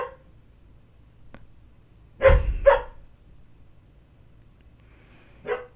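A person imitates a dog, producing two loud bark-like yelps close together near the middle, with a softer third bark near the end, alone in a quiet room.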